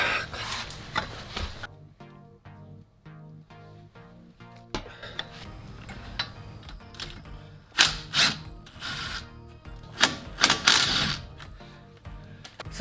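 Socket wrench ratchet working on a lower control arm bolt of a Suzuki Every DA64V with 170,000 km, a series of close, quick clicking ratchet runs in short bursts separated by pauses, with some metallic clanks.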